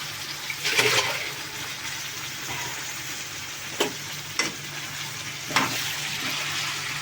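A curry of eggplant, potato and drumstick stirred in a pan, soft steady sizzle with a few distinct scraping stir strokes, fairly quiet and close, no talking.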